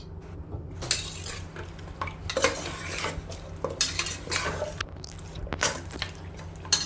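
A utensil stirs ingredients in a metal pressure cooker pot, giving repeated scraping and clinking strokes with short pauses, close and fairly loud, with no talking.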